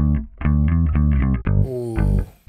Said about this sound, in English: Heavy distortion, but then I dial it back.